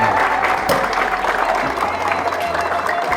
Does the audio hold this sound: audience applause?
yes